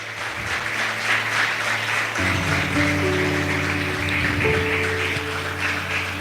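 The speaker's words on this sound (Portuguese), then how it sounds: "Vamos aplaudir o Senhor Jesus com alegria" A church congregation applauds the Lord joyfully during an evening service, a steady roar of many hands clapping together, sustained and even over held organ or keyboard tones underneath.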